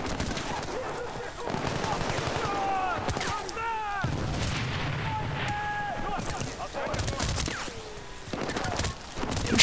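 Gunfire in the video game Battlefield: Bad Company, bursts of automatic fire and shots rattling throughout alongside game sounds, with a voice talking over the action.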